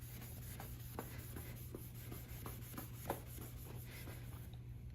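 A cleaning sponge scrubs a discolored stain off a car bumper in repeated short rubbing strokes, fairly close, over a steady low hum.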